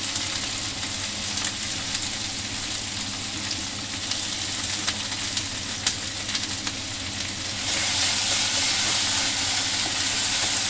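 Ground mustard paste sizzles in hot oil in a pan along with spices for a village-style chela fish curry, a steady close frying hiss that swells louder near the end, with no talk.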